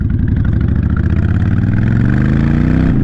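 A Honda Fury motorcycle engine idling close by, a loud, steady, throbbing rumble that holds even throughout, with no one talking.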